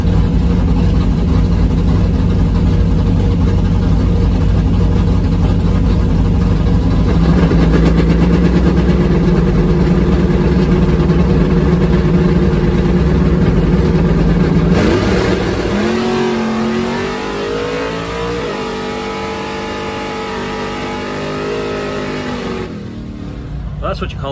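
A drag race car's engine runs at the drag strip, holding a loud steady idle with a deep rumble, then sweeping up and down through revs before dropping back. The engine is close and carries the whole stretch, with only faint voices under it.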